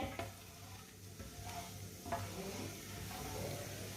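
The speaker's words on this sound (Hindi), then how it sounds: "थोड़ा सा साबुत जीरा, थोड़ा सा साबुत धनिया, दोनों चीज़ों को थोड़ा सा रोस्ट होने देते हैं, थोड़ा सा पकने देते हैं।" Whole cumin and coriander seeds roast in a hot pan with a steady, soft sizzle, with light stirring scrapes near the start and again around the middle, and no voices.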